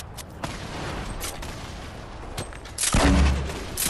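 Rockets fired in a building-and-shooting video game: a series of sharp gunfire-like blasts, then a louder rumbling explosion toward the end, with no voices over it.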